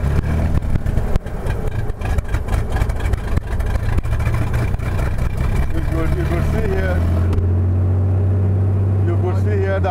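A light aircraft piston engine starts and settles into a loud, steady idle with a drop in pitch and level near the end, a person speaking over the running engine.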